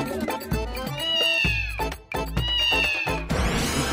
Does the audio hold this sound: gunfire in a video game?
no